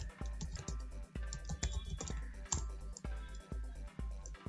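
Commands typed on a computer keyboard come through as quiet, rapid key clicks in short bursts with brief pauses, with no talking.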